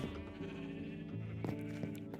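Sheep on a Minecraft farm bleat faintly, with a couple of short bleats rising over a steady, droning tonal background that stays quiet throughout.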